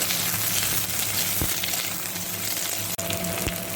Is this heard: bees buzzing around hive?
no